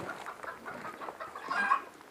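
A rooster clucking outdoors during an airsoft game, soft repeated clucks rising to a louder call near the end, moderately distant and faint.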